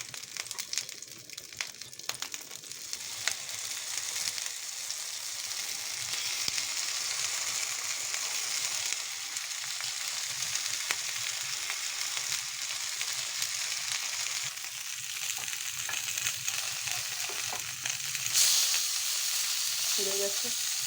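Oil sizzling and frying steadily in a pan on a gas stove while making card bread, a continuous close crackling hiss with occasional stirring scrapes.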